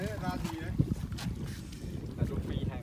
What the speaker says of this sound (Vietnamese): đoạn này gió hơi to